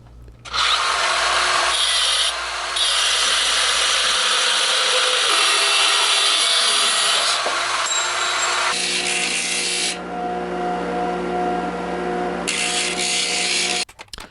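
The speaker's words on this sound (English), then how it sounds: "I used a abrasive cutting wheel to cut it to length" Harsh, high-pitched whine and grind of an abrasive cutting wheel slicing through threaded rod, loud and sustained, with shifts in intensity as the cut progresses and a low motor hum underneath.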